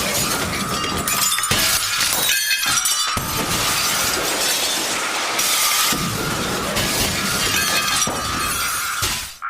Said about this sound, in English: Everything falls apart, and there's a lot of glass breaking